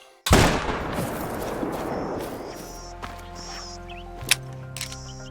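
A single loud, close 7mm rifle shot from a hunting video game strikes a red fox, a sharp blast that rings out and decays over several seconds, followed by a faint thud and soft ambient tail.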